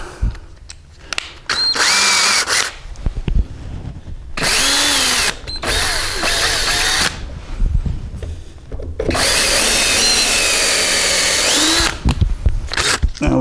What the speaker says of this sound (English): And drill for a new hole.